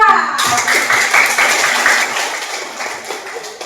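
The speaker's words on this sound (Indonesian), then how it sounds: "tepuk tangan untuk kelompok 2" A classroom of students claps for a presenting group, a steady continuous patter of many hands at close range, with some voices mixed in.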